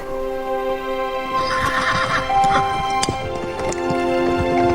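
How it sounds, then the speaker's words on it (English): Horse-drawn royal carriage rolling past, with a horse neighing and hooves clip-clopping steadily over background music in a fairy-tale setting. "When the king's carriage rolled by"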